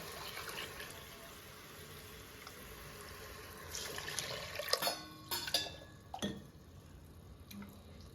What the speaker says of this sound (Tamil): 1க்கு 2 தண்ணி ஊற்ற போகிறேங்க